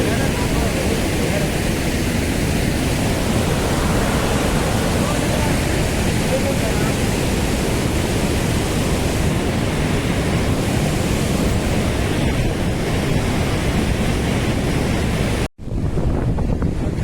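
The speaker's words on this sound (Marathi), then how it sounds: "इकडचा धरण बघा काय पाणी वाहतं" Water pours over the brim of a completely full man-made dam in Lanja taluka, Ratnagiri, a loud, steady roar of rushing water with wind buffeting the microphone throughout, cut off abruptly near the end.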